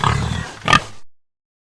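A pig's oink from an animal sound collection: a rough, noisy grunting burst lasting about a second, followed by a short squeal-like accent near the end, heard alone and fairly loud before silence.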